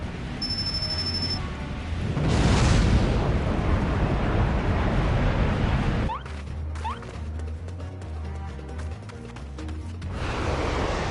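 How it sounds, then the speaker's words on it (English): A nuclear bomb blast in Final Fantasy XIV erupts as a loud, swelling roar, then gives way to rumbling debris and crashing effects that stay heavy for several seconds. "Bro's launching a nuclear bomb and rods at Han"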